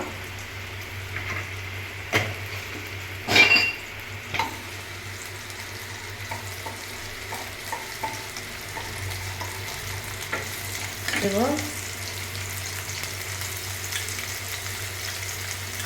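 Softened onions fry in a pan for Bengali chicken kosha as spices are added one by one. A low, steady sizzle runs under occasional utensil clinks and stirring scrapes, up close with no talking.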